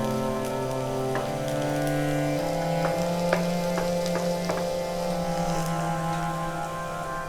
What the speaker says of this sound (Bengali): ঘিয়ের মধ্যে আমি রসুন কুচিটা দিয়ে দিচ্ছি রসুন কুচিটা ভালো করে নাড়াচাড়া করে একটু ভেজে নেবো